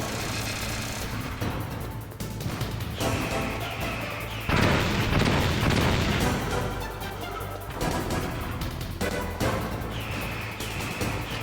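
In Metal Gear Solid, a Stinger missile launcher fires and its missile explodes, giving a continuous loud, rumbling barrage of booms and crashes that swells into a heavy blast midway, then settles into repeated thuds.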